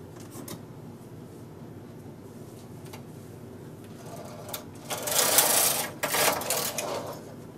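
A knitting machine carriage slides across the needle bed during decreases for a chicken sweater. Soft mechanical clatter gives way to a louder, rattling whir midway, then fades back to quiet handling noises.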